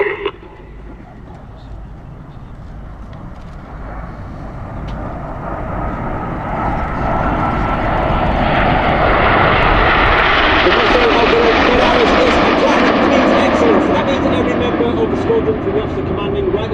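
Red Arrows jets flying in formation at the Sywell Airshow give a broad engine roar that builds steadily as they close in, loud and sustained, with a commentator speaking over it.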